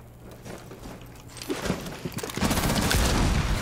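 Gunfire in Rainbow Six Siege ranked play, starting faintly and swelling into a loud, continuous burst of automatic shots over the last second or so.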